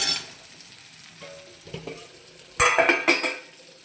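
Onions with curry leaves and ginger sautéing in a pan, a quiet sizzle that swells into louder scraping and stirring near the end, close up and without speech.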